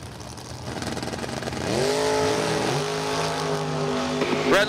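A 2005 Undercover dragster roars at a drag strip during bracket racing, its engine building through rising revs into a sustained loud drone with another car audible, ending in a sharp burst.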